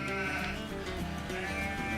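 Sheep in the farm-building video game Rise of Industry bleat loudly and continuously, with several overlapping wavering calls close up and no talking.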